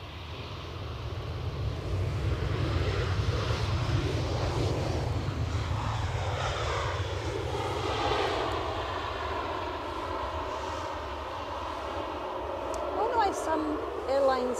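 A 20-year-old airliner at Edinburgh Airport drones steadily through the whole stretch, a sustained engine roar with shifting tones, heard under continuous talk.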